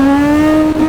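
A 1000cc-plus motorcycle accelerates hard at full throttle, its engine note a loud, steady harmonic whine that holds close and continuous before a brief dip near the end.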